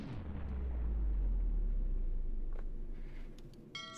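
A torpedo fires from tube four in a U-boat video game: a deep, loud rumbling whoosh swells and slowly fades, followed by faint clicks and a brief ticking at the end.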